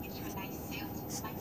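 A toy train runs along a wooden track, making a low, continuous rolling rumble with faint whirring, and a voice is faintly present underneath.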